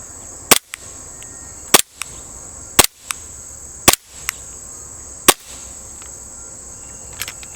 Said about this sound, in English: You hear them bouncing back off of this steel?